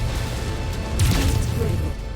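Chemical tanks are blown up during a MechWarrior 5: Mercenaries mission, a heavy crash that swells out of a dense, constant roar of battle and machinery, with a voice speaking faintly underneath.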